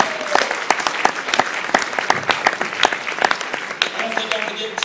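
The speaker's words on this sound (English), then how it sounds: "So let's give Pat a big round of applause." Crowd at a political spaghetti dinner gives a big round of applause, loud close individual claps rattling throughout with some voices mixed in.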